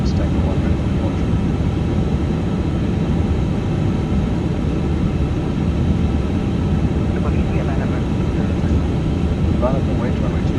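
An iniBuilds A350 airliner in a flight simulator holds at departure at Singapore Changi, its jet engines giving a constant, loud low roar that stays level throughout with no breaks.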